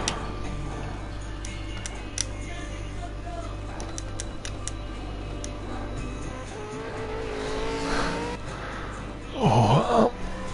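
Race cars in a sim racing video game league race, a steady engine drone with faint ticking, swelling briefly into a louder tire squeal near the end.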